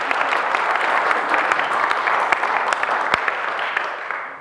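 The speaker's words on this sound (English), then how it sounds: "So a big round of applause," An audience at the SPEAKup Challenge in Manchester welcomes the next speaker with dense, sustained applause: many hands clapping at once, steady and loud, with a few sharper claps standing out before it thins toward the end.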